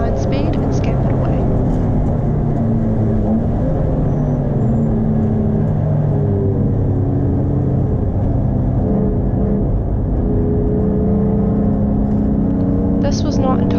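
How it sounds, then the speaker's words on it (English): MG and Volvo race cars speed along a track at an ERC event in Taupo, a continuous loud engine roar and rumble holding steady throughout with no break. "both the MG and Volvo showed their straight line speed and scampered away"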